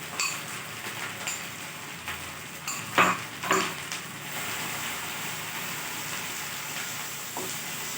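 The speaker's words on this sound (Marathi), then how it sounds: "स्लो गॅसवर तर आपल्याला ही ग्रेव्ही फ्राय करायची" Paneer gravy with bay leaves fries in a pan over a low gas flame, giving a soft, steady sizzle. A few brief clinks of a spoon stirring the pan cut through the sizzle, with no speech.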